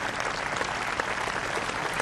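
Dense, steady audience applause for the race winners fills the whole stretch, loud and continuous without pauses, with no voices rising above it.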